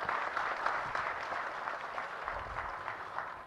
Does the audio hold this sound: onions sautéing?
no